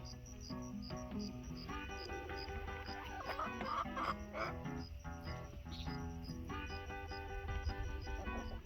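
A hen clucks and murmurs in short bursts close by in a morning garden, while a steady high chirping of insects runs continuously in the background.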